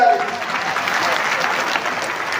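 A crowd at a Chief Minister's visit in Dindori claps in a loud, dense burst that holds steady throughout, close and continuous with a voice faintly present underneath.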